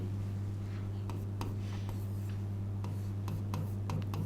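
Chalk or marker strokes write on a board during a Hindi geography lecture, a run of short scratchy taps and rubs over a low steady hum, close and fairly quiet.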